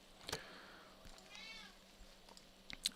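A house cat meows a few times indoors, soft drawn-out cries with small clicks and rustles around them, fairly quiet and nearby.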